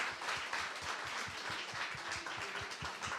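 Congregation clapping in a church after a wedding blessing, a steady run of hand claps that is moderately loud and dense, with no voices over it.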